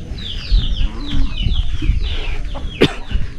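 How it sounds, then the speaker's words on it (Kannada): Native country chickens, not broilers, cluck and chirp busily up close inside a chicken shed, with overlapping calls and a sharp burst that sounds like flapping wings near the end. "ಇದು ಶೆಡ್ ಬಂದು ನಾಟಿ ಕೋಳಿ ಶೆಡ್ಡು,"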